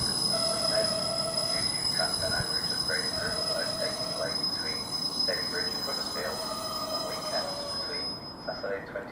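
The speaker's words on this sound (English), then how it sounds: "Now this train now departing the northern service, 1103 Middlesbrough to Newcastle." A Northern class 156 diesel unit departs a station platform at Thornaby on a Middlesbrough to Newcastle service, rumbling and squealing as its wheels roll past, with a high tonal whine and rising engine notes, moderately close.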